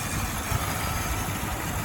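A Chevrolet Camaro Z28 engine idles with a steady low rumble and constant hum, no voices, moderately loud throughout.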